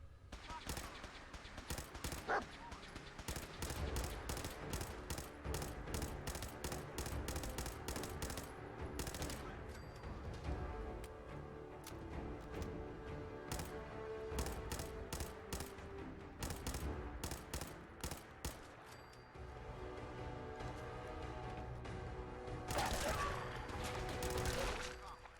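Sustained gunfire from the Fallout 4 video game during a fight with super mutants, with dense rapid bursts and repeated shots running throughout at high, steady loudness, while a voice talks over part of it.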